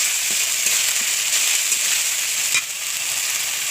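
Spices sauté in hot oil in a pan for chicken bhuna khichuri, a continuous bright sizzle with faint crackles and a brief stir near the end, no voices.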